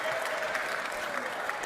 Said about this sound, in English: I think you all should give yourselves a round of applause